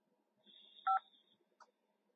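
A telephone keypad's 5 button is pressed during a call to a hearing-impaired relay service, giving one short two-tone DTMF beep, clear and alone against near silence, with a faint high tone and small clicks around it.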